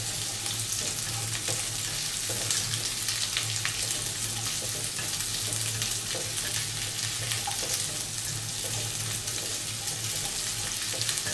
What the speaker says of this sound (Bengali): পেঁয়াজটা একটু ভেজে নিতে হবে।